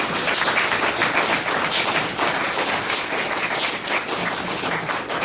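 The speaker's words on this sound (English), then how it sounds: "please help me give another round of applause to Jon for coming" A seated audience at an evening talk applauds with dense, continuous clapping that stays loud and even throughout, with no voices over it.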